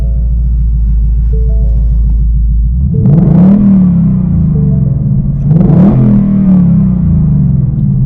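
A 2021 Ford Mustang Mach 1 V8 fires up with a low idle rumble, then gets two sharp throttle blips about three seconds apart, each swelling to a loud growl before settling back.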